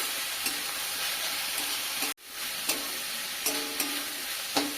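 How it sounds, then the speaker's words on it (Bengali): Cabbage stirred with salt in a frying pan, a quiet steady sizzle broken by a few light scrapes and taps of the spatula, with one brief dropout midway. "লবণ খুব ভালোভাবে মিশিয়ে নেব"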